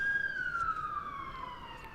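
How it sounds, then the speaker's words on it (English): An emergency siren wails from a vehicle near a cricket ground opposite a hospital during a county match, a single long tone gliding slowly downward at moderate distance with no talk over it. "the hospital is of course right opposite the ground here, so sirens are a regular occurrence"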